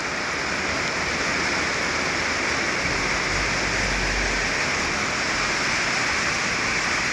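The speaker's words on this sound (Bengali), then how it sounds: "প্রচুর বৃষ্টি, দেখা যাচ্ছে না।" Heavy torrential monsoon downpour drums steadily around a motorbike stopped on a road, a loud, dense, unbroken roar of rain throughout.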